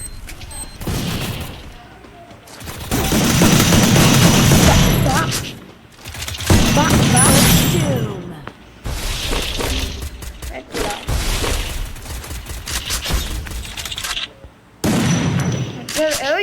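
Video-game gunfire comes in loud, dense bursts of rapid shots and booms that stop and start in clusters, with a player talking between and over the volleys.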